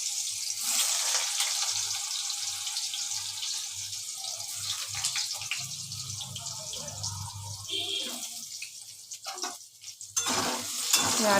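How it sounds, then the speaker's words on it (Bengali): Potatoes fry in a pan with a soft, hissing sizzle that runs continuously, broken by occasional scraping stirs and clatter, nearby and moderately quiet. "আলুগুলো আগে একটু লাল লাল করে ভেজে নিচ্ছি।"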